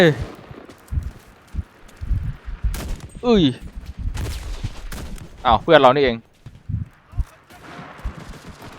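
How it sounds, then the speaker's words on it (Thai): Gunfire from the free-to-play shooter Enlisted: repeated sharp shots and short volleys burst out at irregular intervals across the battlefield, mixed with other game effects while a player talks over the action. "มีการยิงกันเรื่อยๆแล้ว"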